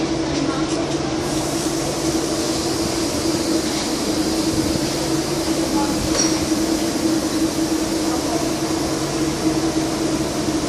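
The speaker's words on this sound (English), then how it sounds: "So once again it's your 1855 Greater Anglia service to Norwich. Slowly leaving Stowmarket." A Greater Anglia train pulls slowly out of Stowmarket station bound for Norwich, giving a steady low rumble with faint clinks and a hum like air conditioning throughout, heard from nearby.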